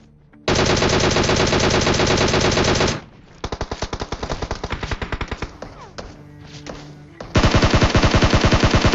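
A DP machine gun fires in a battle royale video game: a loud, rapid burst lasting a couple of seconds, then a run of slower spaced shots, then another hard sustained burst, all close and with no talk.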